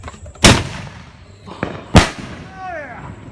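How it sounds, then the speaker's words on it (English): A spinner firework set off inside a plastic Gatorade bottle, giving two sharp loud pops with a smaller crack between them and a brief rising whistle-like whine near the end, over faint background voices. "So we got one of the spinners in a Gatorade bottle."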